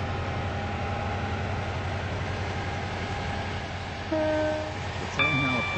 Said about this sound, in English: The train now approaching Platform 2 does not stop here.